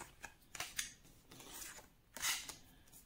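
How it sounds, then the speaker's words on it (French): Golden Tarot cards turned over one after another make soft, close papery swishes and slides in a few separate bursts, with no voices. "Alors, je vais retourner les cartes."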